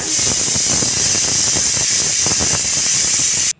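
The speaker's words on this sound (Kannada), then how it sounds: "ನೋಡಿ ಹಾಗೆ ಎರಡು ವಿಸಿಲ್ ಬಂದಾಗಿದೆ" A pressure cooker of mint pulao on the stove lets out a loud, steady, hissing steam whistle close by, holding without a break for about three and a half seconds before cutting off.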